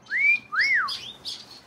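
A Gouldian finch whistles a series of three rising and falling notes, clear and close, with short pauses between each call.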